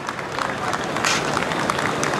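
Crowds lining the streets applaud as Margaret Thatcher's hearse passes on her funeral route, a broad, steady wash of outdoor clapping and crowd noise with a voice speaking over it.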